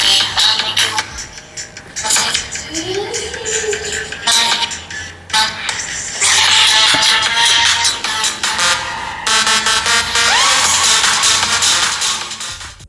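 A Samsung Galaxy A26 5G plays music through its single mono speaker, loud and continuous for several seconds, with a thin, bright phone-speaker tone.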